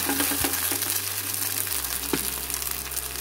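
Adai dosa sizzles in a pan after being flipped over, giving a steady, close frying hiss over a low kitchen hum with a few faint clinks. No one speaks.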